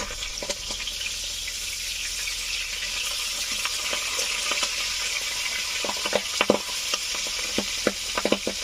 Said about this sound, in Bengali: মাছগুলো ভেজে নিয়েছি, আর প্রচন্ড ফাটছিল বলে ঢেকে ভেজেছি